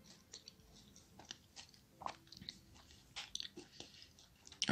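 Crisp bites and chewing of a crunchy Lion White bar coated in white chocolate, with scattered crackling crunches close to the microphone and no talking over them.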